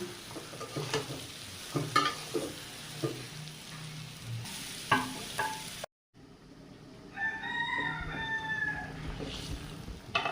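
Sliced ridge gourd is tossed into a pan of spiced oil with ground cumin and stirred, giving scraping and sizzling with a few sharp clinks. After a brief cut, a rooster crows in the background.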